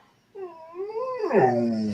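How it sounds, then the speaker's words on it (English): A dog whimpers nearby in a rising then falling, wavering whine that swells into a louder strained cry at the end; a person briefly exclaims. "I think that was my dog that commented."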